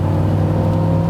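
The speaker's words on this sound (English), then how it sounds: "listen to that. What a glorious engine." A Daimler Dart SP250 British sports car engine runs with a steady, loud mid-pitched hum and drone, heard from inside the car on the road with no talking.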